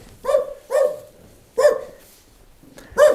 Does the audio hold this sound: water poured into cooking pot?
no